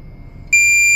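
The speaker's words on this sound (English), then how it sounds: "there's showing the shallow depth alarm right now" An echo sounder's shallow-depth alarm starts partway through, a steady high-pitched electronic tone that holds continuously and loudly to the end after a stretch of quiet hum.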